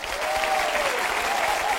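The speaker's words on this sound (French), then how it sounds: "d'applaudir le professeur Christian Cabrol" A studio audience at a French TV quiz show applauds a guest, a professor, with steady, dense clapping that holds for under two seconds at moderate loudness.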